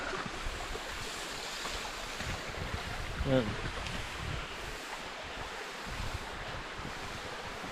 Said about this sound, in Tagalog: Steady na tubig. Galing dun sa bundok.